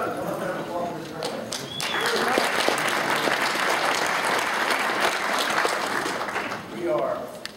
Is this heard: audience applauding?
yes